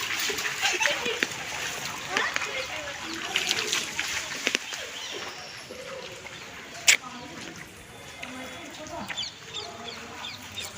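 Water splashes and splatters on and off for several seconds, with a sharp louder splash partway through and outdoor background noise.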